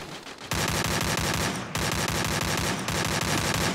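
Sustained rapid automatic gunfire in the Free Fire battle royale video game, loud and continuous with a fast, even rhythm of shots in several long bursts, no talk over it.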